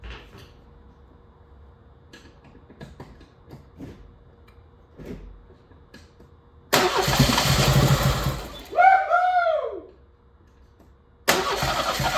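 A neglected 1988 Ford Escort GT, sitting for twenty years, cranks and catches into a loud rough idle, revs with a rising and falling whine, drops out, then roars back up after quiet handling sounds.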